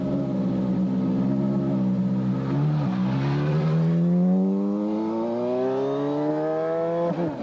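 Nigel Mansell's Indy racing car with a manual gearbox screams along the track, its engine note climbing steeply, dropping sharply at a gear change, then climbing again loud and close.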